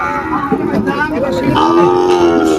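Sahiwal cattle being unloaded from a truck at a cattle market in Faridpur: repeated close, loud moos and lowing calls layered over each other, with people talking nearby amid the busy market noise.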